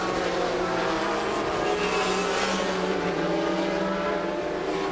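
A Peugeot 3.2 litre turbo sports prototype race engine at Magny Cours roars loud and close, a dense sustained howl holding steady for the whole stretch with no voices.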